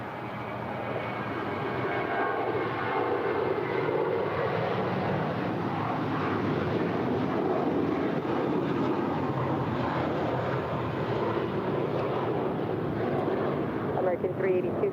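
An airliner taking off at LAX gives a broad, steady roar that holds for the whole stretch at a moderate distance, with voices talking over it.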